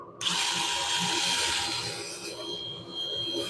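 A steady, loud abrasive whir of a spinning lathe with sandpaper against a cypress wood bowl, continuous and close, with a high whine running throughout.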